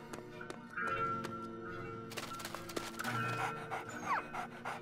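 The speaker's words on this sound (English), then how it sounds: "let's talk to this doggy" A dog pants in the video game Enchanted Arms, with quick rhythmic breaths over game music with sustained tones and chimes, fairly close and moderately loud.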